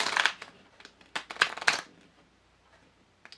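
Tarot cards riffled and shuffled in several quick bursts, crisp and close, with short pauses between and a faint tap near the end.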